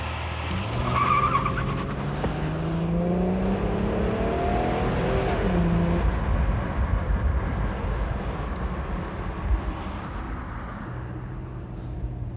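A car accelerates hard to 100 km/h, its engine rising in pitch through several gear changes, each shift dropping the tone before climbing again, then settling into steady road and wind noise.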